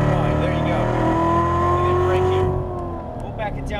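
Chevrolet Corvette C7 Z06 on a race track, its engine droning loud and steady from inside the car with a gliding pitch, then easing off as someone talks.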